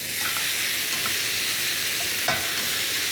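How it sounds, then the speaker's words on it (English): Food sizzling and crackling in a hot pan, beef for a beef pie, a steady loud hiss with occasional stirring scrapes. "I like this frying bit. It's good. Just fry stuff."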